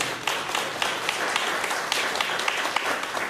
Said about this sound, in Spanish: Les pido que les den un aplauso a las compañeras